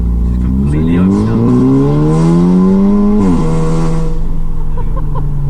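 A loud, raspy engine rev from an Audi S3 with a fully opened-up exhaust replacing the stock system, pitch climbing steadily then dropping sharply and settling into a steady rumble, close and continuous.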